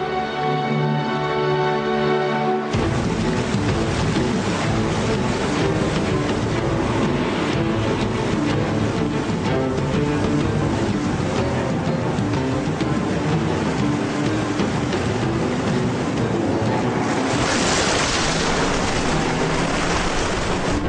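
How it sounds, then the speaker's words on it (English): Flash floods surge across desert ground toward a canyon in a constant, heavy rushing roar of water. The sound is dense and loud, starts abruptly after a brief opening, and swells brighter near the end. "From all over the desert, the floods race towards the canyon, and then they begin to carve downwards."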